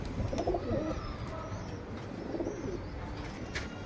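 A Surmi Rakdar lineage pigeon coos in soft, low, rolling bursts, two clear coo phrases close by over a steady background hum, with faint chirps from other birds.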